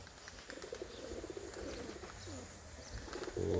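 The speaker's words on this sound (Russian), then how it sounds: "Стайка полетела." Flock of around sixty pigeons flying overhead near a garden, heard as soft fluttering wingbeats and faint cooing at moderate distance, with a louder burst of flapping at the end.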